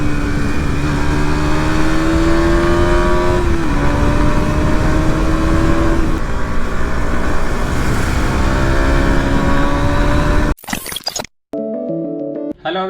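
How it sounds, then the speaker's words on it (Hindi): A KTM Duke 200 motorcycle engine runs loud and close with a steady drone, its pitch rising and dipping as it revs. It cuts off abruptly near the end, followed by brief unrelated sounds. "मैं बाइक की आवाज़ सुनता हूँ ना, तो ऐसा लगता है जैसे कि मैं सुपर बाइक चला रहा हूँ भाई"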